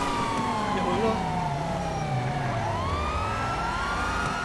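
Emergency vehicle siren in the GTA 5 video game, a continuous wailing tone sweeping up and down over a dense traffic and engine rumble, loud and steady throughout.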